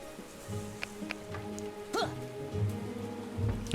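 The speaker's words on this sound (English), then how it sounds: "Ooh, and rainy days upon us again. Well, a rainy evening." Rain falling in the castle-building strategy game Becastled, a soft steady patter under game music, with brief in-game effects and a louder burst near the end.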